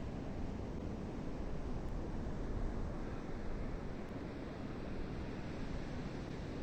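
Atlantic Ocean surf at Fire Island on a January day makes a steady, dense roar of breaking waves, broad and continuous with wind noise mixed in.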